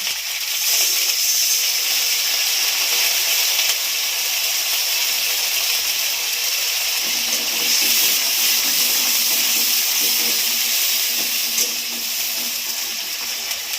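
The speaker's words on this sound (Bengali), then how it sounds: "একটু জল দিয়ে মশলাটাকে কষাবো।" Masala spice paste sizzling in a pan after a little water is added, a steady close hiss with faint bubbling and crackle throughout, no voices.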